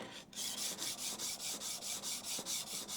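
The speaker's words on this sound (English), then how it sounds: "we're going to go back to the sandpaper and work it again" A plane blade is rubbed back and forth on sandpaper, making a rhythmic rasping scrape with about ten even strokes. The sound is soft and close, with no talking.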